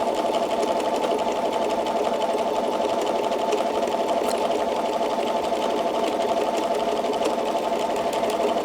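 A sewing machine stitching steadily during free motion quilting, a close, even mechanical hum and rapid needle rattle held at a consistent speed throughout, with no talking.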